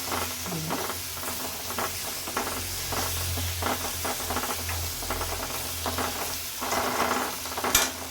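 Tomatoes frying in a pan for Punjabi chole give off a steady close sizzle with soft stirring scrapes, and a bubbly hiss swells near the end.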